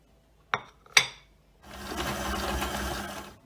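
Two sharp clinks are followed by a stand mixer whirring steadily as it beats butter for buttercream for vanilla custard cupcakes.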